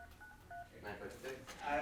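Telephone dialing tones during phone banking for a political campaign, a quick run of short keypad beeps heard quietly beneath people talking.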